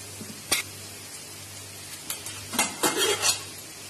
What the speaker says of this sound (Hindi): ये सारे कटे हुए प्याज हम इसमें डाल देंगे और इसको तब तक हमको चलाते हुए भूनना है